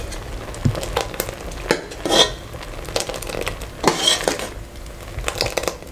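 Thickened milk for homemade kulfi is stirred in a pot off the heat, a spoon dragging and scraping through the dense mixture in irregular strokes with a soft bubbling hiss, close and without talk.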